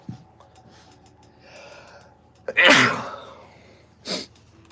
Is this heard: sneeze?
yes